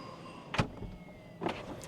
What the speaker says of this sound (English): I can open the doors from here.